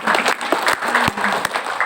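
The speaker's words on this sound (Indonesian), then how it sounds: "Tepuk tangan dulu buat Aceh." An audience claps in a continuous burst of applause for participants from Aceh at a gathering, dense and fairly loud with a faint crowd murmur underneath and no clear speech.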